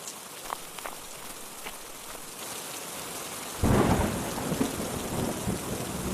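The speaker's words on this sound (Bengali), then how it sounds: "আরে বৃষ্টি তো দেখি অনেকটাই কমে গেছে" Rain pours steadily, then a loud rumble of thunder breaks in partway through and keeps rolling beneath the downpour.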